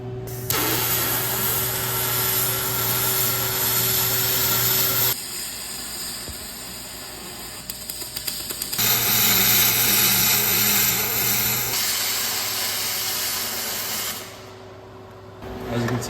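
Fronius TransSteel 2200 welding machine laying a stacked-dimes weld bead: loud, steady crackling hiss in long continuous runs broken by short pauses, with no talk.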